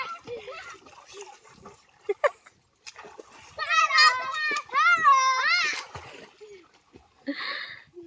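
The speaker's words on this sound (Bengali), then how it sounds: "এইদিকে কতগুলো সব ডুবুচ্ছে" Kids diving and splashing in water in the Sundarbans, their high excited shouts and squeals rising over scattered splashes, fairly close, with a quieter stretch at the end.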